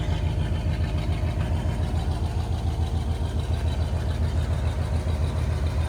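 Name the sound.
1985 Chevrolet Silverado K10 5.7 V8 engine idling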